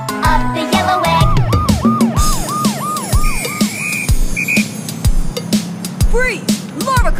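A cartoon police car siren wails in a fast, repeated up-and-down pattern over a bouncy kids' song backing with drum hits, loud and close, followed by a couple of short higher beeps.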